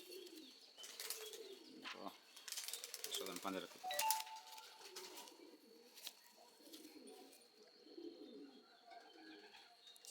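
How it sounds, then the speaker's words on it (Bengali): Old-line Madrasi Lalanka pigeons coo softly and repeatedly in a loft, with brief bursts of wing flapping. Someone talks over and between the calls. "বহু পুরনো হচ্ছে পিওর লালাঙ্কা পায়রা লালাঙ্কা লাইনের পায়রা"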